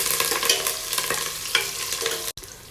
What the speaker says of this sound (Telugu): ఇవన్నీ వేసిన తర్వాత ఇవన్నీ కూడా గోల్డ్ కలర్లోకి వచ్చేంత వరకు ఫ్రై చేసుకోవాలండి.